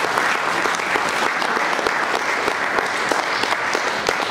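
A church congregation breaks into loud, sustained applause acclaiming the Lord, many hands clapping densely and continuously, close and full, with no clear speech over it.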